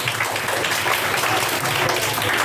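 A live audience at a quiz-show style event claps loudly and continuously, a dense unbroken burst of applause with no voices over it.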